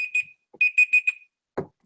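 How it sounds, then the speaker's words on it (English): A buzzer goes off in sharp, high electronic beeps, a short pair and then a quick burst of four, followed by a dull thump. "I think the buzzer's about to go."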